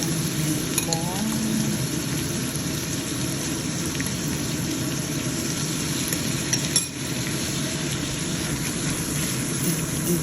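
Smoked salmon and shrimp sauté in a pan with a continuous loud sizzle, while a utensil stirs and scrapes through the food, giving occasional clinks of metal.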